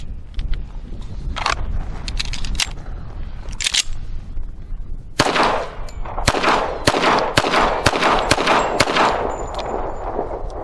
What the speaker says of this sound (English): I've got some of these semi-wad cutters. These are target loads. I'm going to see if this pistol is going to cycle them.